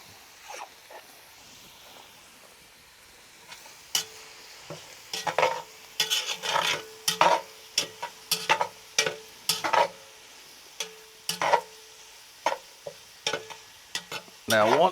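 Onions frying and being stirred in a pan for tater tots, with a steady sizzle under a long run of rhythmic scraping strokes from the spoon, close and moderately loud.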